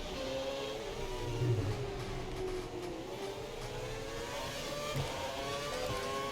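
F1 racing car engines from the racing game F1 2012 whine continuously as cars overtake, a dense, loud, steady drone with shifting tones rising and falling and no pauses, with no talking.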